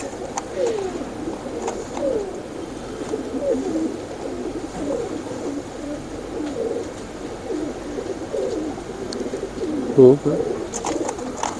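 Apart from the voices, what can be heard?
royal teddy pigeons cooing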